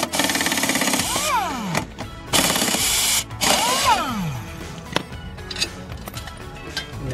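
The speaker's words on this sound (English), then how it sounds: "Take your impact wrench," An impact wrench rattles in loud bursts as it loosens the blade on a lawnmower flipped on its side, its pitch sweeping up and down between short pauses, then a few clanks follow.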